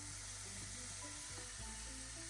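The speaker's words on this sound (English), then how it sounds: "in the same pan, add some oil and tomatoes in it. Let them cook until they are soft." Tomatoes cooking in oil in a pan give off a steady, even sizzle that stays at one level throughout, close up, with no voices.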